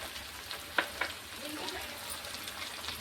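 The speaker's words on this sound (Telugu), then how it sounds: "ఉల్లిపాయ ముక్కలు, పచ్చిమిర్చి అవన్నీ వేసుకొని ఒకసారి ఫ్రై చేసుకుందాం" Onion pieces and green chillies fry in a pan with a soft, steady sizzle, broken by a couple of brief sharper crackles near the start.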